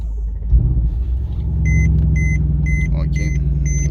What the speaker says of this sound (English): Let's start the car today. Let's start the car.